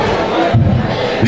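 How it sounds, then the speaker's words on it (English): Wedding celebration audience clapping and cheering loudly, a dense crowd roar with shouts, brief and close. "Put your hands together for them."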